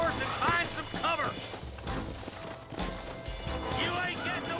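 Horse galloping in the Red Dead Redemption video game, rhythmic hoof clops and thuds amid a chaotic scene with shouting voices and bursts of crashing noise, moderately loud.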